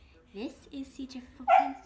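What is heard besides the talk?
dog barking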